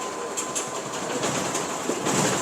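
A train passes at night in the distance, giving a quiet, continuous rumble with faint rhythmic wheel clicks and a thin high hiss, with no talking.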